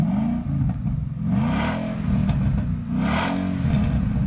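A Ford Mustang 5.0 engine fitted with a Valvetronic exhaust system, valves switched off, idles with a deep, muffled rumble and repeated rising-and-falling revs, heard close and steady with no talking.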